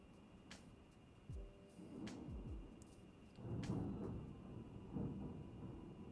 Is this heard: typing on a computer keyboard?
no